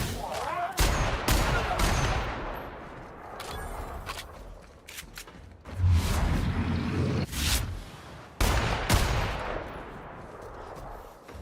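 Sniper and other gunfire in the video game The Outer Worlds: loud sharp shots cracking at irregular intervals over a busy battle din, with a voice talking in between.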